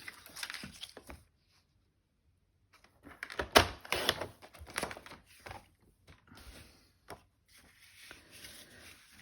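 A paper trimmer slices through cardstock during card making, with short scraping and sliding strokes and clicks in bursts separated by brief pauses, close and fairly quiet.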